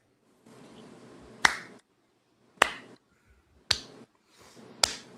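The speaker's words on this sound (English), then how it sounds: "Slow clap." Four slow, deliberate single claps ring out about a second apart on a sports talk show, each a sharp close smack with a short echoing tail, separated by near silence and faint background hiss.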